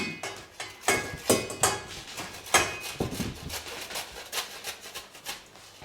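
Fresh ginger, skin on, rasped over a grater into a saucepan of water, a run of close, uneven scraping strokes with short pauses between them.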